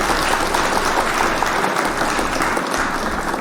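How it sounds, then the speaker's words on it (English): A roomful of people claps steadily throughout at a live civic news gathering, loud, dense and continuous applause with no break. "Hit the clap for Vanessa."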